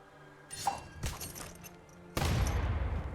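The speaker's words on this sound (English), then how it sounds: "And cannon shot to the face." A cannon shot in the video game Armello lands as a sudden loud blast near the end, preceded by a couple of sharper crashing hits and quieter game effects.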